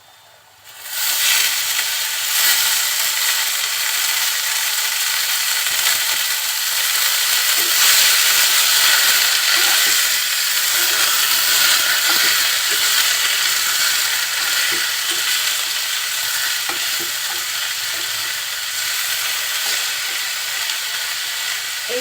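Radish greens (mula shak) with chopped radish and potato frying and being stirred in a pan, giving a steady, close hissing sizzle with faint scraping clicks throughout.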